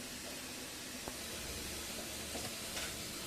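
Mustard seeds sputter and crackle in a little hot oil in a pan, a steady quiet sizzle with a few faint pops, made while preparing star gooseberry pickle in a home kitchen.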